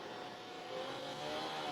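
Blowers run outside as a steady, broadband roar of air and motor noise, constant and moderately distant throughout.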